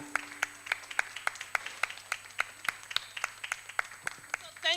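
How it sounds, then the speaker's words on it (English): Sparse, separate claps from a small audience applauding a team at a Nigerian educational and anti-corruption event, with a steady low hum underneath and a brief voice near the end. "So, round of applause for them. Standing ovation for them, not me, for them, for"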